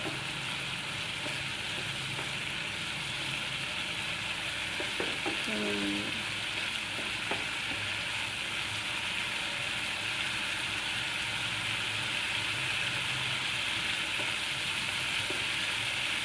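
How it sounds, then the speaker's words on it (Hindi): Chicken pieces fry with spices in a hot pan, giving an even, loud sizzle that runs unbroken, with a few faint stirring clinks. "2 से 3 मिनट इसे भूनेंगे और फिर दही ऐड कर देंगे।"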